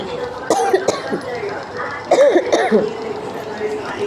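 Two close, short bursts of coughing with a pause between them, mixed with some throaty vocal sound.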